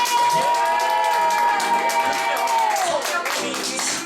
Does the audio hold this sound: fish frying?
no